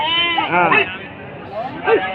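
Sheep bleat loudly close by at a livestock market, a couple of wavering calls over a soft background murmur.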